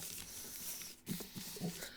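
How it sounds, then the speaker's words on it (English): Tarot cards being shuffled by hand, soft papery riffles and slides with a couple of louder flicks near the end, close and quiet. "I'm shuffling"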